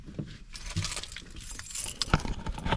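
Car keys for a 2014 Ford Taurus Police Interceptor sedan jangle and clink close by in a few quick bursts of metallic rattling, with no talking.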